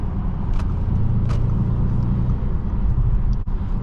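A 2015 Audi S8 4.0T Quattro pulling hard under acceleration from inside the cabin, a loud deep engine rumble building steadily with a brief dip near the end, no talking.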